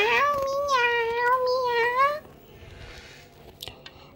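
A kitten gives two or three clear, drawn-out meows up close, then goes quiet, with faint rustling afterward.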